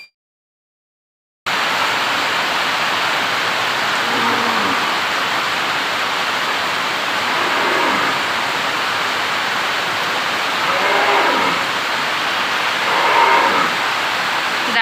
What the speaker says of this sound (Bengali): দেখো কি প্রচণ্ড বৃষ্টি নেমেছে।